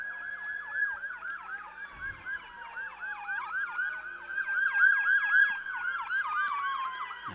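An ambulance siren wails continuously in rapid repeating yelps as it heads down a city street on a Saturday night near a baseball game, fairly distant and growing slightly louder mid-clip, with no talk over it.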